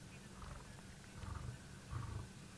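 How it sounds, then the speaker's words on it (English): A big male lion growls low and rumbling in the wild, a steady deep throaty rumble that swells near the end, with no talk over it. "But listen to him growling"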